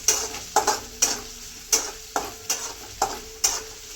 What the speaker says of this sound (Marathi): आता कांदा परतत आहे चांगला